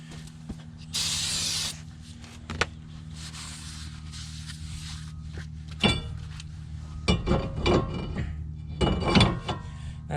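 Brake cleaner gives a short, loud aerosol hiss on truck brake parts during a roadside repair, followed by scattered clanks and thunks of handled metal over a low steady engine hum.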